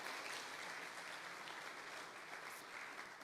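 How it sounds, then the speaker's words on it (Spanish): Applause from a church congregation praising God, a steady, dense wash of clapping holding at an even level throughout without pause. "Si le van a dar un aplauso a Dios, como Él se lo merece."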